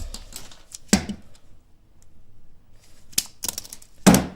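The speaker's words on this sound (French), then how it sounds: "Maintenant on va prendre la pince. On va couper tout ça." Leatherman pliers snip through a shielded cable in a few sharp, close crunching cuts, spaced apart by quiet handling, with two snaps bunched near the end.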